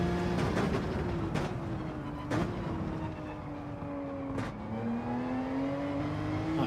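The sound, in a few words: Porsche race car engine in video game Gran Turismo 7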